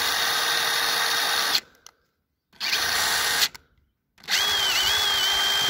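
A DeWalt power tool with an intermittent power fault runs at a steady, loud motor whine, then cuts out to near silence twice before starting up again each time.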